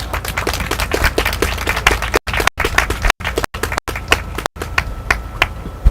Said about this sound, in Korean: 큰 박수로 함께 해주십시오